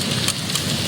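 Rain falls in a steady, dense hiss with faint patters on a surface, continuous and fairly loud for a brief moment.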